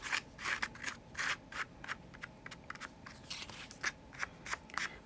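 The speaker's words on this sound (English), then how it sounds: "turning my scissors just at a slight angle and letting some of them get cut completely off" Quick, crisp snips of scissors cutting through paper at a slight angle for art journaling, a mix of short and longer cuts in an irregular rhythm, close and fairly quiet.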